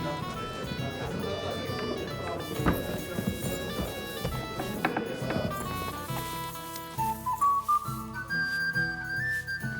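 Whistling in Kingdom Come: Deliverance II rises out of a game soundscape with horse hoofbeats and music, as a short series of clear rising whistled notes near the end.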